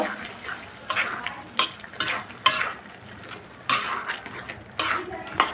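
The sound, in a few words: stirring raw tomato curry with mustard-poppy paste in pan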